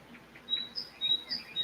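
Birds chirp outdoors in a series of short, high, thin tweets coming every few tenths of a second, fairly faint and clear over a quiet background.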